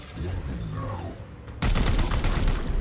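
A person talks briefly, then a loud, dense burst of gunfire erupts and keeps going as weapons are turned on a cultist in the strategy game WH40K Daemonhunters.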